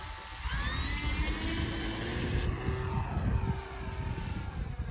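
An aircraft engine runs up for takeoff, its strong steady roar holding throughout with rising and falling whine tones over a rumbling low end, close and loud.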